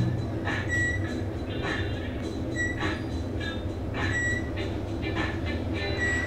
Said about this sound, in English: They're Otis Elevonic 411 with Series 1 fixtures